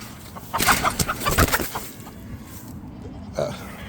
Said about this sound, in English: You guys want to see me catch this chicken?